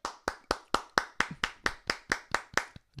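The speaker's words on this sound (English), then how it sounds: "let me give you a round of applause" A steady round of hand clapping during a live morning show, about a dozen crisp, evenly spaced claps in quick succession, close and fairly soft, with no talking over them.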